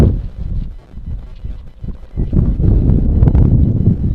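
Low, blustery wind buffets the microphone at a high school fastpitch softball game, rumbling and gusting louder toward the end.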